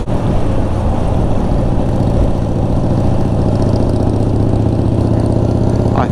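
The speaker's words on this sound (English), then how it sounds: "That sound of a V-twin rumbling along at low speed is" An old Harley-Davidson Sportster V-twin rumbles loudly at low speed, a dense, steady low throb that holds unbroken from start to finish, close and with no voices.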